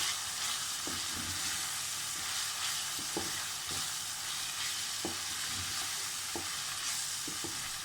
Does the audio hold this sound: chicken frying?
yes